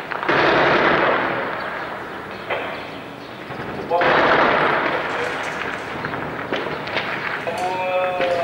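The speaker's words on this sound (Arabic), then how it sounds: "قصف عنيف جدا على أحياء درع البلد." Heavy shelling strikes neighborhoods of Daraa al-Balad, with loud broadband blasts and rumbling bursts rolling through the whole stretch, the strongest near the start and again midway, while voices and shouts are heard over the bombardment.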